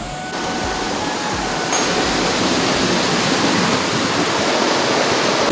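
A river swollen after a storm roars past, a continuous loud rush of floodwater that fills the whole clip, steady and close with no pauses or voices.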